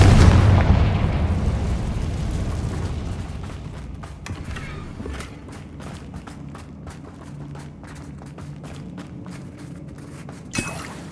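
Confringo spell blasts in the Hogwarts Legacy video game, a loud burst at the start that rumbles and fades into a string of smaller crackling impacts, with a sharp pop near the end.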